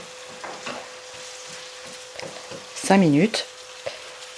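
Carrots in a pan sizzle as cider vinegar is added and cooks off, with a short loud burst of frying between quieter crackles. Someone talks briefly nearby.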